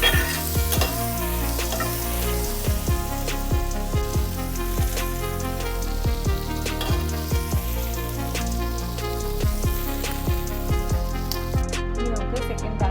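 Squid fries on a flat tawa griddle for Kerala-style butter garlic squid, giving a loud continuous sizzle broken by frequent sharp scraping and clacking strokes as it is stirred constantly.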